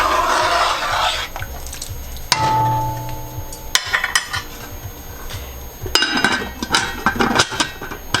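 A metal lid set onto a pot of boiling rice and beans, giving sharp clanks and clinks of metal on metal, then rattling knocks over the steady hiss of the stove.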